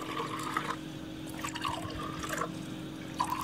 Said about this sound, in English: Add water up to half of your glass.